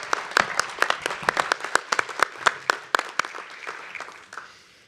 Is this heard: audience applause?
yes